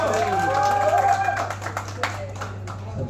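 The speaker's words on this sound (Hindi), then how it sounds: "जोरदार तालियां हो जाए" Audience applause and cheering at a Bhojpuri song launch event, loud and crowded, with a held musical tone and a steady low hum underneath, fading toward the end.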